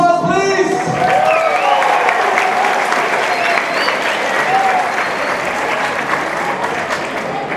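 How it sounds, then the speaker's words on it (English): Loud, sustained applause from a rally audience fills the whole stretch, dense clapping with crowd noise and a voice speaking over it near the start. "Everybody give me a round of applause, please."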